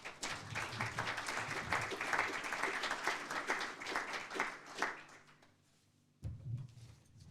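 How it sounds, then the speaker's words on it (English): Audience clapping at the UAE-UK Energy Transition Summit as a speaker is invited to the stage, a moderate spatter of applause that fades out to near quiet, followed by a brief low murmur. "thank you all for that little clap just now"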